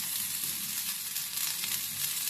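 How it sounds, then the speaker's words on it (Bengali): Carrots and cabbage being stir-fried in a pan, giving a steady, bright sizzle of frying vegetables that carries on close and unbroken throughout. "এবার গাজরটাও হালকা হালকা নেড়ে নেব আমরা, হালকা হালকা।"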